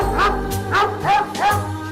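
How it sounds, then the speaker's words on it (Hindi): A dog barks four times in a steady rhythm, each bark loud and close, with a low, steady background hum beneath and no talking. "ये डॉग तुम्हें देख के भौंक क्यों रहा है?"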